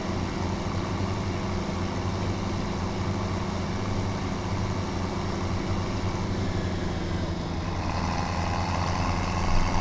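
Steady tractor engine drone from the Farming Simulator 2017 video game, a continuous low rumbling hum with little change throughout, alone without talk.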